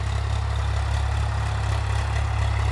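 A modified Ford 3600 tractor working a wheat field runs its engine at a steady 1400 RPM, giving a loud, close, unbroken low diesel drone with an even throb and no voices.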